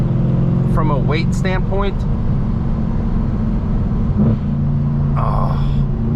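Mercedes C63 AMG engine while driving, a steady low droning rumble inside the cabin that runs the whole time beneath a man's speech.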